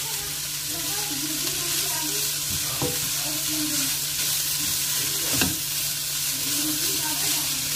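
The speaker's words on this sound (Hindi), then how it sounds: "तो अब हम इसको स्टिर फ्राई करेंगे तकरीबन 5-1 मिनट" Chicken pieces stir-fry in a pan with a steady, close sizzle, and a few louder scrapes of stirring cut through, without talk.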